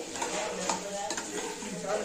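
Bottle gourd chutney frying in a pan while being stirred, with soft sizzling and scraping under a voice talking over it.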